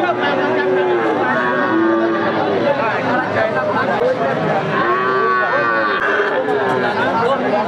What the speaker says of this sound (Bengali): আপনাদের কিছু খামার উপযোগী ষাঁড় বাছুর দেখাবো, কেমন দামে বেচা কিনা হচ্ছে জানানোর চেষ্টা করবো